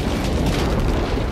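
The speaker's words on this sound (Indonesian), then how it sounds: "Aduh, meledak." A dense, rumbling blast in the Just Cause 3 video game during a mech land assault, filling the whole moment with loud, sustained low-end roar and crackle and no talk over it.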